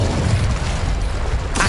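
An Incendio fire spell cast in the Hogwarts Legacy video game, heard as a loud, sustained roaring whoosh with a brighter burst near the end.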